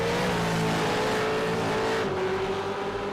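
V8 Supercars racing in the iRacing simulator at the Montreal circuit, a loud steady engine howl with pitch climbing under hard acceleration, several cars close together.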